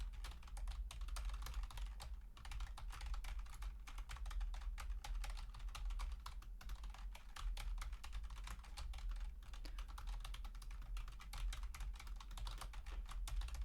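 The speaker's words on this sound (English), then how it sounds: "Why isn't she using the mouse at all? She's just typing." Rapid, continuous keyboard typing with quick irregular clicks, close and steady for the whole stretch, over a low background hum and no voices.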